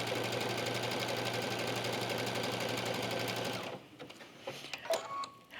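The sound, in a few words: sewing machine stitching a straight line across bead fabric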